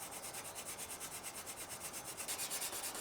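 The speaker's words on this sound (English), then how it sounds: "I used some wire wool to clean off this rust" Wire wool rubbed back and forth over rust on the edge of an enamel 1950s pantry cupboard, a faint, even, rhythmic scratchy rasp repeating several times a second, close and alone.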